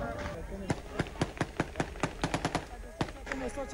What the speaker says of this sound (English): Gunfire echoes through the night, warning shots from the American forces to keep the crowd at bay.